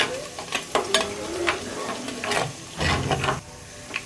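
Fennel seeds, white cumin, cinnamon and two black cardamoms lightly roasting in hot oil: a soft, steady sizzle broken by repeated scraping and stirring bursts from a spoon in the pan, close and moderately loud.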